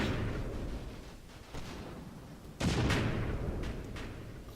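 Mortar shells landing in the World War II game Combat Mission, a low rumbling barrage with two sharp booming impacts, the second louder, each trailing off into a sustained roar.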